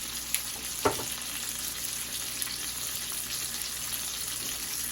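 Steaks frying in butter in a pan give a steady close sizzle with crackling pops throughout, plus one brief scrape or clink of the pan.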